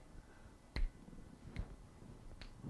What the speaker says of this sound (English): drag queens read you with a finger snap